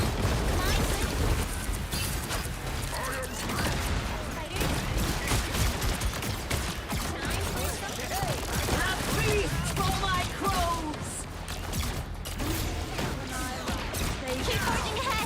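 Explosions and rapid gunfire from a Marvel Rivals match, with dense overlapping blasts, crackling impacts and mechanical effects under game voice lines and talk throughout.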